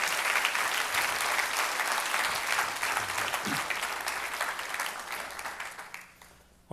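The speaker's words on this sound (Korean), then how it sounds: "우리 나오실 때 큰 박수로 맞아주시기 바랍니다" A church congregation at a Sunday service in Irvine claps loudly in a dense, sustained burst, and the applause fades away over the last second.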